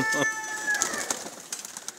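Pakistani pigeons on a village rooftop loft coo softly in short, overlapping calls, with faint flutters and small knocks around them. No one speaks.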